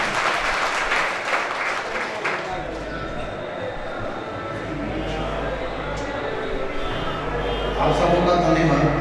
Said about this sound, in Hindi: हम जोरदार तालियां बजा के इनका अभिनंदन स्वागत।